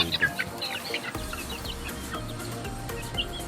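Pet chickens cluck at morning feeding time on an overcast day, with several birds calling in short bursts over a steady rustling background and no one speaking.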